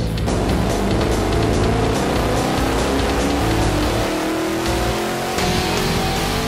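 A Ford Mustang Cobra engine with a Borla induction system roars under load on a chassis dyno, pitch climbing steadily in a long sustained pull, loud and close throughout.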